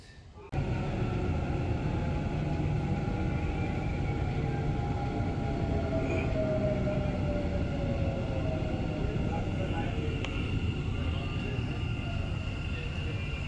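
Dubai Metro train running along the line, a steady continuous rumble and rolling hum heard from inside a carriage, with a faint rising whine and no talk.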